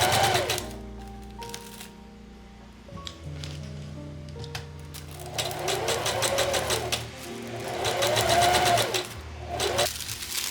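Sewing machine stitching a beaded corset belt through tissue paper, running in several bursts of rapid mechanical whirring with brief pauses between runs, fairly close and steady, with no talk over it.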